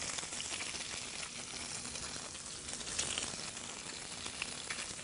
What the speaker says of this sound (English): we'll get our fillets in there to sear the fillets